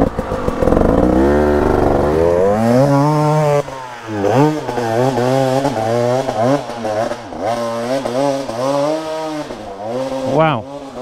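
KTM motorcycle in first gear climbing a mountain trail, engine loud and close throughout with repeated rising and falling revs, continuous under the rider's own sound with no clear talk.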